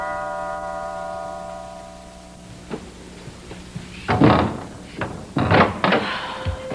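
A front door in a house is answered and opened, giving several wooden thunks and a rattle of the latch, fairly close, after a quiet stretch with a low background hum.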